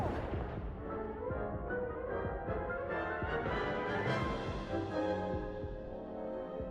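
In a video game, the Incendio fire spell is cast in combat, releasing dense booming bursts and crackling blasts that come in rapid succession, loud and close, with no talking.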